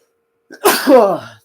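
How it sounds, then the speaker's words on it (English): One sharp, close human sneeze with a brief intake of breath before it, loud and alone against silence. "see, there's the sneeze."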